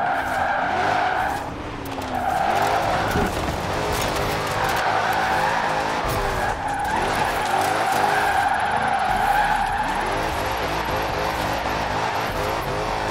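A Dodge Charger R/T in Forza Horizon 4, its V8 engine roaring steadily under long continuous tire squeals and skidding, close and loud throughout.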